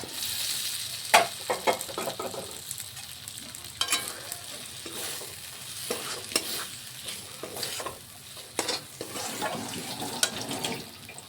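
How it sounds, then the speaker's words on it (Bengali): Potatoes go into a cooked-down spice paste for a prawn curry, giving a close, crackling sizzle with repeated clatters and scrapes of a spoon stirring in the pan. "আমাদের এখানে মশলাটা কষানো হয়ে গেছে। এখানে আমরা আলুটা দিয়ে দিলাম।"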